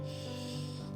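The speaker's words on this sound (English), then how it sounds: "And exhale deeply through your mouth" A long, deep breath pushed out through the mouth during a beginner stretching routine, one steady airy rush lasting about a second, close and fairly soft.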